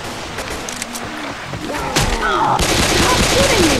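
Gunfire from the zombie shooter game Left 4 Dead 2: a dense burst of shots and booms that thickens into continuous firing in the last half, with a voice speaking over the shooting.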